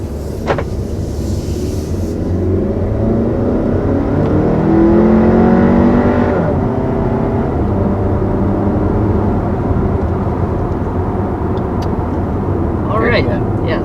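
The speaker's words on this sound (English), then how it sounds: "that was our first acceleration here in the 2020 Q3." A 2020 Audi Q3 pulls away hard from inside the cabin, engine note rising through the gears in sweeping climbs before easing back to a steady cruising hum.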